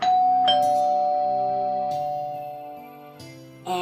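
A two-tone doorbell chime rings out in a home, its ding-dong tones sustaining and slowly fading over a few seconds, with a second chime beginning near the end.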